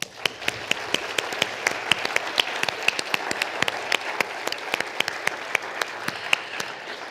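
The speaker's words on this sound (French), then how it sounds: "Nous pouvons les applaudir." Audience applause at an award ceremony, a steady dense clapping from a large crowd filling the hall for the whole stretch, fairly loud and close with sharp individual claps standing out.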